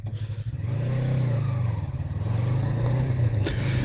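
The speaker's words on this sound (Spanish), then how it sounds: "vamos a subir la cuesta de arriba en esta moto" A Yamaha MT-03 motorcycle engine labours steadily close by, its low, throbbing drone holding under load as it climbs a hill.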